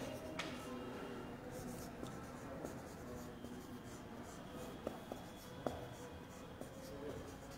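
Chalk or marker writes on a board during a chemistry lesson, making steady soft scratching strokes with a few sharp taps, close by and alone without talk.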